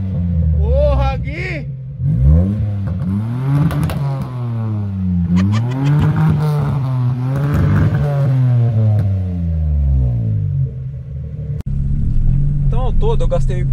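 A Suzuki Swift with a modified exhaust, catalytic converter deleted and a JK intermediate section fitted, revs repeatedly in deep, rising and falling blips. The engine sound is close and loud, and people speak over it.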